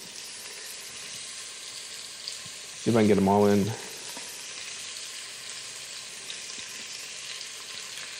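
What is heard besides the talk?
beef browning and sizzling in a pan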